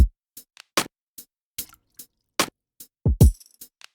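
Sparse lo-fi drum pattern programmed in FL Studio, crisp clicky hits and short snappy knocks spaced in a loose groove, with a deeper thud near the end, dry and close with no voices.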